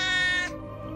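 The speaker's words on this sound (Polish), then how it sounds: "Pobawmy się z kotem." One brief bright meow from a cat in Holy Potatoes! We're in Space?!, sharp and near, fading into a low lingering tone, no voices.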